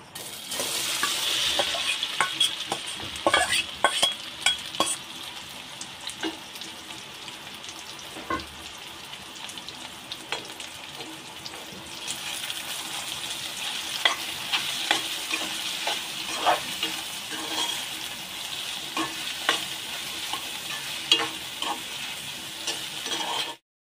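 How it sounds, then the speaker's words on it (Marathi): A soybean chunk and egg mixture sizzles in hot oil in a pan while a spoon stirs it, with scraping strokes and clinks over a constant frying hiss. No one speaks. "आता आपण याला 1-2 मिनिटं असं परतून घेणार आहोत चांगलं"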